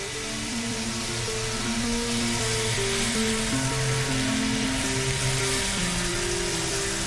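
Shrimp frying in a hot pan give a steady, loud, dense sizzle and crackle throughout, with a low tonal hum running underneath and no voices.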